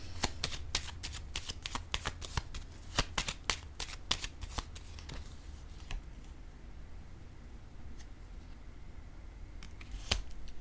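Tarot cards are shuffled and handled in a rapid run of crisp flicks and snaps for several seconds, then a few sparse single card taps against a quiet background.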